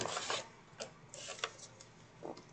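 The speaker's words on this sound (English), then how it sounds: "let's score at 1/2 inch all the way down" Dollar Tree craft board pieces are scored along a half-inch line, producing faint, scratchy rubbing strokes in a few short bursts, close up and quiet.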